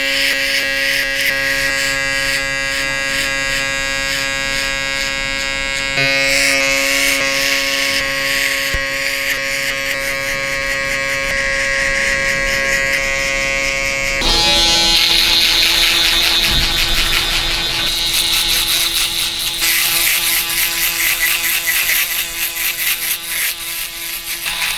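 Electric hair trimmers buzz loudly and continuously as they cut hair for a mid fade buzz cut, their tone shifting partway through as the clippers move across the head.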